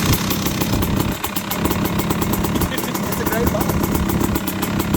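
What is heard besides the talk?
KTM engine starting and idling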